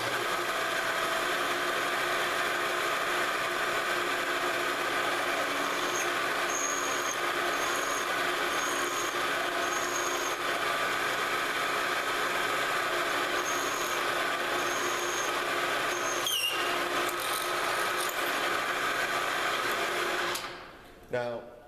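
A drill bit turns in the chuck of a milling machine while drilling holes, a steady high motor whine with faint intermittent squeals, ending in a brief clatter as it stops.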